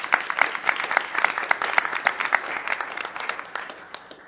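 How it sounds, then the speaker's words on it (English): A small audience claps at a legal symposium on cross-border bankruptcy. The individual claps are distinct and fairly close, settle into a brisk rhythm, then thin out and fade over about four seconds. "Lauren, just stand up and get a round of applause here."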